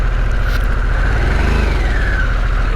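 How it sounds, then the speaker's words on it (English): A Harley-Davidson Sportster S, 2021 model, rumbles loudly and steadily up close, its engine note carrying a pulsing low throb with faint pops on deceleration, no voices over it. "on the decel, it just pops so much"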